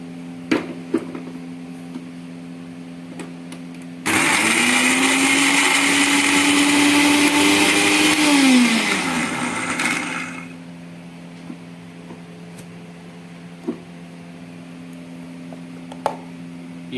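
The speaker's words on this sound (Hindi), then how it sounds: "इसको इस मिक्सी में जार में डालेंगे और इसको पूरे तरीके से महीन क्रश करना है, महीन पीसना है।" A mixer grinder jar crushing Oreo biscuits into fine crumbs, a loud, steady whirring roar that runs for about six seconds and then winds down, alone, with faint clicks before and after.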